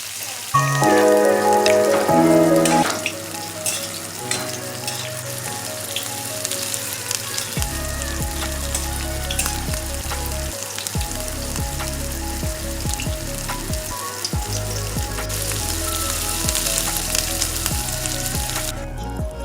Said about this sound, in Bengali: প্রথমে উচ্ছেটা ভেজে নিচ্ছি